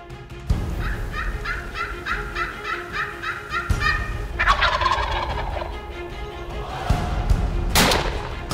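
Several wild turkeys gobble repeatedly in a rhythmic rattling series, fairly close and loud, followed by more gobbles and a sharp thump.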